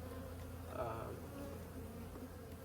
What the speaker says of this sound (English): A lot of new bees as well